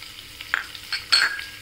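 Green chilies drop into hot oil already holding asafoetida, mustard seeds and cumin, giving a few short sizzling bursts and stirring scrapes, close and moderately loud, with no talking.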